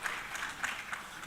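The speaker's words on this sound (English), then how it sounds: "Please, a round of applause for Fatima" Applause from a conference plenary audience, a steady wash of many hands clapping at moderate distance, with a few sharper bursts standing out through the short stretch.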